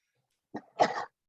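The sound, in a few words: sneeze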